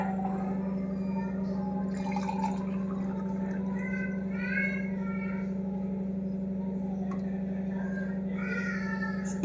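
Nannari syrup poured into a glass, a steady gurgling trickle of liquid under a constant low electrical hum, no talk.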